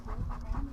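A beekeeping smoker's bellows gives a few rhythmic, breathy puffs, close and fairly loud, sounding much like a big dog panting.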